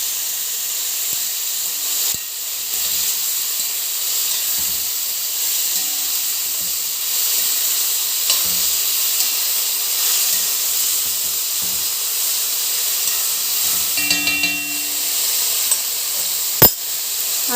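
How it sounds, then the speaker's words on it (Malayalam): Chopped tomatoes stirred into a hot curry pan sizzle steadily with a bright, continuous hiss, joined by occasional soft scrapes and clinks of the spoon, close and alone. "നമ്മൾ നേരത്തെ അരിഞ്ഞെടുത്ത് വെച്ച തക്കാളി ഇടുവാണ്. ഒന്ന് ഇളക്കി കൊടുക്കാം."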